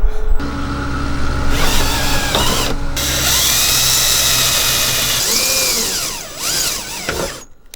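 A power drill runs for several seconds close up, whining and grinding through a car's metal trunk, with pitch rising and falling as it speeds up and slows.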